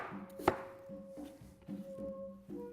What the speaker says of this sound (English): we're just cutting them down in some cutesy little slices